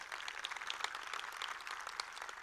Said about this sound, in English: So if you can please give them a round of applause.